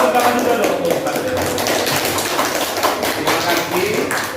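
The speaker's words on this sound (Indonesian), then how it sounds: "Ya, tepuk tangan juga dong untuk Ustaz." A classroom group clapping hands for a religious teacher during a lesson, a scattered, uneven patter of claps close by and fairly loud, mixed with a murmur of voices.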